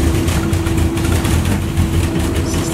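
The engine of an MG Midget runs hot with a recently worked carburettor, giving a steady low mechanical drone with a rough, pulsing rumble, near and loud. There is no distinct rise in revs.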